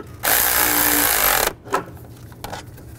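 A power tool runs in one loud continuous burst of just over a second while tightening exhaust manifold bolts on a 2010-2017 Chevrolet Equinox, followed by a few short clicks and clanks.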